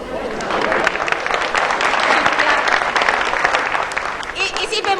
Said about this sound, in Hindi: बहुत डर डर के तालियां बजा रहे हैं।